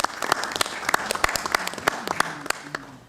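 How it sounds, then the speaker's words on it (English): Meeting attendees break into applause at a council ordinary meeting, a few seconds of scattered, sharp hand claps from a modest group in a room, fairly close and steady throughout. "Give her a round everyone. of applause, please."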